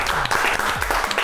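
Short burst of studio audience applause on a Spanish-language gossip show, dense and steady for about a second with a voice briefly audible over it.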